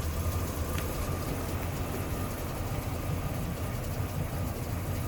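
A 1966 Chevrolet C10 pickup's engine idles with a low, even rumble, steady and unbroken, with no talking over it.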